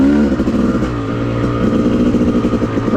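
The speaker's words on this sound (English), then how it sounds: "The bike running great." An off-road dirt bike runs steadily along a groomed OHV trail at Wambaw Cycle Trail, its engine droning loud and close with a continuous, slightly rising and falling tone and no voices.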